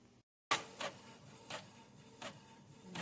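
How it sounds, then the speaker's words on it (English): A small Canon desktop printer starts up after a brief silence, then whirs and clunks with periodic mechanical pulses as the print head and paper feed move, close and steady. "I'm going to hit start printing."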